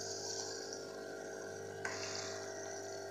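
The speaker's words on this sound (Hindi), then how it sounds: "अब मैं इसमें पानी डाल रही हूँ हाफ़ कप" Water poured in a steady stream into a pot of mung lentil daal, a continuous close pouring and filling sound with a slight shift partway through, no voices.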